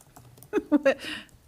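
A few quick keystrokes clatter on a computer keyboard during a municipal committee meeting in a quiet room. Three close clicks come in a short burst, then a faint patter follows, with faint voices nearby.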